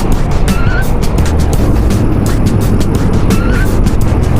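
A motorcycle engine drones loudly and continuously while riding along the Casiguran–Baler road in Aurora, with heavy wind and road rush throughout and faint intermittent chirps over the top.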